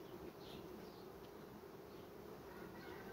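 Honey bees on a hive frame hum in a steady, close, continuous buzz with no pauses or talk.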